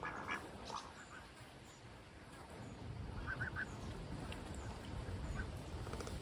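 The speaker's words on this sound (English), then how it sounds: "Scaredy goose." A farm goose in Normandy, France gives a few short, faint honks in the middle of steady outdoor background noise, with no close talk.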